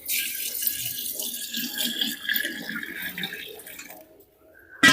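Water is poured into curd for churning desi ghee from Gir cow milk, a close, continuous splashing pour that fades out near the end. There is no talking.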